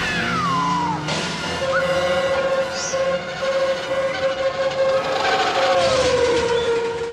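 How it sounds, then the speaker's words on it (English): An oncoming subway train in an animated Disney movie scene roars loud and close, with a long sustained horn tone under the rumble and sliding, screeching pitches at the start and end. "our heroes dodge the oncoming train"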